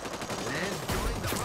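Gunshots from the video game Hyper Scape, a burst of loud close shots with a sharp impact near the end, set against dense in-game noise.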